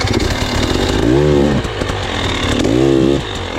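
A hard enduro motorcycle stuck on technical terrain revs hard in two rising bursts, its engine loud and close, wheel spinning against a rough, constant mechanical roar.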